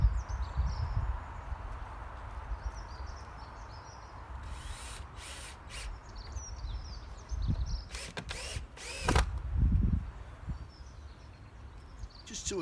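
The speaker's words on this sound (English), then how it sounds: "all I'll do is put some screws in." A cordless drill drives a few screws in a greenhouse, with short bursts of motor whir separated by pauses and some clattering handling sounds, nearby and outdoors.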